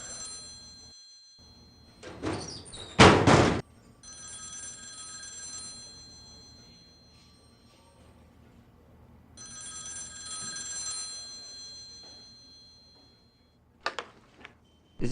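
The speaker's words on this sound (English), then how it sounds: "That's your phone." A telephone ringing inside The X-Files Game, a PC adventure, with a loud burst of ringing near the start among quieter tonal electronic tones and background ambience, plus brief clicks at the end.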